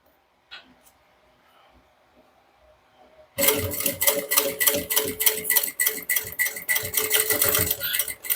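A sewing machine stitches a bag's zipper after a quiet pause, starting abruptly into a close, loud, rapid rattling run of needle strokes that continues to the end.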